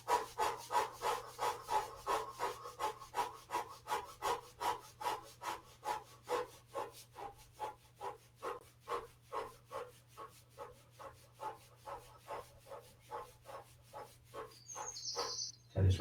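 Palms rub back and forth over a client's body during a shiatsu session, making a steady rhythmic brushing about twice per second that gradually softens, close and alone with a low hum beneath.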